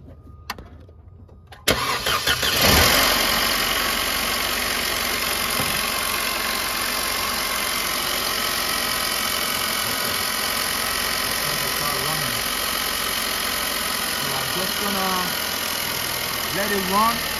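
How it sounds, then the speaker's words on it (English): A Mercedes-Benz C250 cranks and fires up after a brief quiet moment, then settles into a steady, close idle that runs continuously with a faint high whine, while voices speak briefly over the engine. "so I'm gonna go ahead and start the car and check out for any oil leak"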